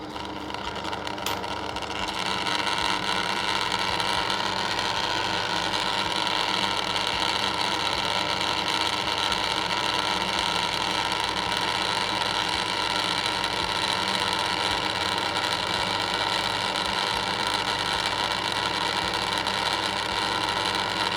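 Car engine running on oil treated with a timing-chain additive, heard as a steady, close, even idle hum with a faint vibration and no voices, holding constant throughout.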